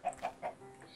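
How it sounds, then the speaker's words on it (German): A chicken clucks inside a house in Minecraft, three quick, fairly quiet clucks in a row followed by a brief soft trail. "Jetzt ist hier ein Huhn im Haus."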